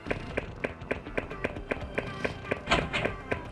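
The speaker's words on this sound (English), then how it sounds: "I love how my footsteps sound so dainty, like I am wearing fine high heels." Dainty high-heel-like footsteps in the video game LSD: Dream Emulator, a steady even run of crisp taps at a walking pace, close and clear, with a voice briefly overlapping.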